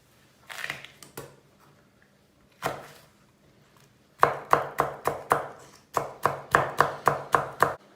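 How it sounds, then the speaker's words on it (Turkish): Knife chopping onion, tomato and pepper on a cutting board: a few scattered cuts, then fast, regular runs of crisp close chops in two bursts. "soğanını, domatesini, biberini doğradık"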